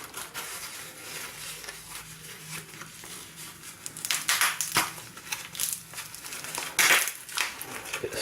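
Flimsy packaging around a budget watch is unwrapped, with soft crinkling and crackling that comes in louder bursts partway through and again near the end.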